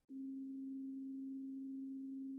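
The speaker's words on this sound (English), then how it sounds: "Pretty much just looking for a sine wave." A pure, steady electronic tone starts abruptly and holds at one pitch without wavering, clean and fairly loud, with nothing else around it.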